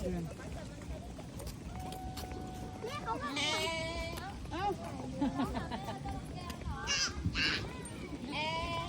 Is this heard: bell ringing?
no